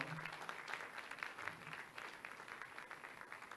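An audience applauds at a women's event, a steady, faint, distant patter of many hands that runs the full length without a break.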